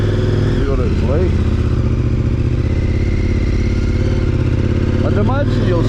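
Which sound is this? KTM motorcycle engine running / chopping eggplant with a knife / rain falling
KTM motorcycle engine running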